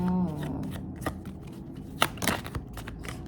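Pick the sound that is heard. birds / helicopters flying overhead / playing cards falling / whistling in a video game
playing cards falling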